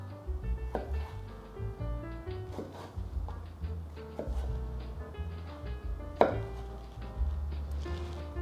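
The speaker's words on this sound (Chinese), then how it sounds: "把它切一半， 再切一半变成条状" A knife chops baby corn into strips on a cutting board, a dozen or so quiet, uneven taps at close range with short pauses between cuts.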